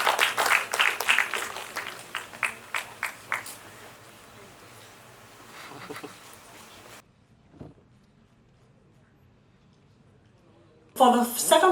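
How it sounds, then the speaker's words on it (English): People at the Lagos Business Clinic 2024 business event applaud with a short burst of distinct claps that taper off after a few seconds. A quiet pause follows before someone starts speaking again. "Please, let's give them a round of applause."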